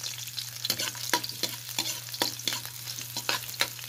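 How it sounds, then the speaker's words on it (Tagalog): Ginger and onion sauté in a pan for a clam dish simmered in Sprite. They hiss continuously under a brisk run of spatula scrapes and taps, close and steady, with no voices. "Pag medyo namutla na itong luya, sunod na natin ang sibuyas."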